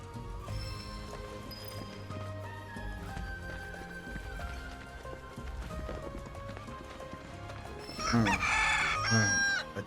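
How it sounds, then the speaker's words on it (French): Chicken clucking in the video game Final Fantasy VII Rebirth, heard over steady game music with soft rhythmic footstep-like clopping, ending in a louder burst of cackling near the end. "Si la poule s'arrête, attendez un instant qu'elle bouge à nouveau."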